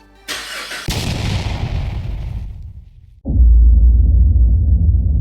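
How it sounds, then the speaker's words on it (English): A Ford Mustang EcoBoost cranks and fires with a sharp burst, its engine revving up loudly and then settling, followed by a sudden heavy, deep rumbling roar close by. "this time you can go to start the car"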